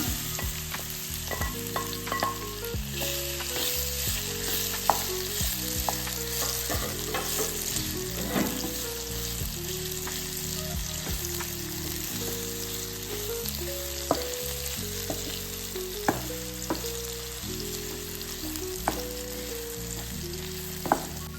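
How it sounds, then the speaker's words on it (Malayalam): Banana pieces fry in ghee in the same oil used earlier for homemade kaipola, a dense, even sizzle that runs the whole time, with scraping stirs against the pan and steady music underneath, no speech. "ഇതേ എണ്ണയ്ക്ക് തന്നെ നമുക്ക് ബനാന ഇട്ടിട്ട് നമ്മൾ നെയ്യിൽ വാട്ടിയെടുക്കണം."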